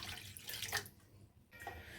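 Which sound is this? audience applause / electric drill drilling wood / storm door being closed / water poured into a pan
water poured into a pan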